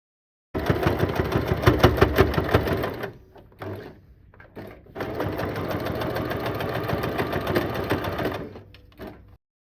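Close, loud sewing machine stitching a strap with a D-ring onto a bag panel, running in a long burst, pausing briefly, then resuming at a steady pace.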